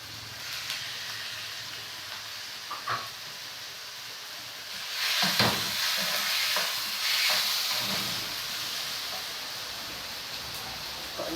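Chicken pieces land in a hot pan with tomatoes and sautéed aromatics for ginisang ampalaya, and a steady sizzle swells as they are stirred. Scraping utensil sounds and louder bursts of frying follow midway.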